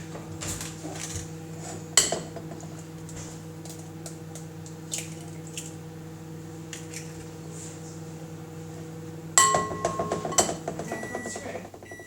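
Eggs for custard are whisked in a bowl: scattered clinks of utensils against dishes build to a burst of quick, rapid tapping strokes near the end, close and fairly loud.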